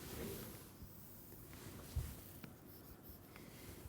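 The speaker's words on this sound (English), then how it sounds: "let me write it down" Pen writing by hand during a lecture on crystal symmetry, with faint, soft scratching strokes on paper against a quiet room background and no speech.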